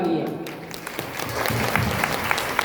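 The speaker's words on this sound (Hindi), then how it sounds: "इनके लिए जोरदार तालियां।" Audience applause at a devotional festival in India, a steady wash of clapping across the clip with a voice speaking over it.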